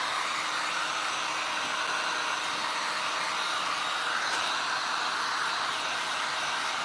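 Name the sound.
hair dryer drying paint on furniture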